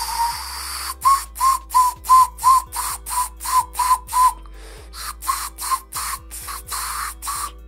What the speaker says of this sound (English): now it's a whistle